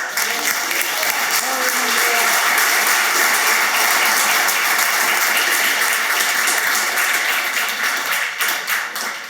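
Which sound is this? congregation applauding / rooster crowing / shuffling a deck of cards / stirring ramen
congregation applauding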